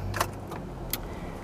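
Keys jangle in two brief clusters inside a car, a faint steady rumble underneath and no clear engine start; the car needs a key rather than push-button ignition.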